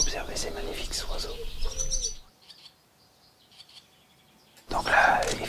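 Wild birds chirp and call in short, bright bursts near the start, fall quiet through a hushed middle stretch, then return as a clear, close burst of tweeting at the end.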